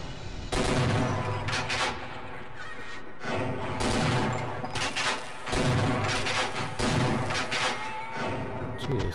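Gunfire in Half-Life comes as loud, sharp bursts of rapid shots separated by short gaps, over a busy background of game sounds.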